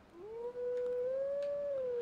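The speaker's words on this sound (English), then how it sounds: "We have to howl Zelda's lullaby." A wolf's howl from Twilight Princess carrying Zelda's lullaby, a single clear, sustained tonal line that rises, holds and gently wavers, loud and alone.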